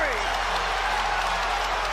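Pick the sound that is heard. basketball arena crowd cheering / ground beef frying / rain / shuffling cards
basketball arena crowd cheering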